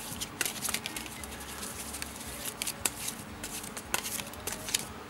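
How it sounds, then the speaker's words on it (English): Osho Zen Tarot cards being shuffled by hand, producing soft, irregular papery riffles and taps at close range across the whole stretch, with no talking. "shuffle it a little more"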